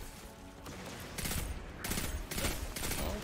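Rapid automatic gunfire in the video game Destiny 2, with bursts of fast shots that swell and cut out several times over a few seconds, fairly close and loud.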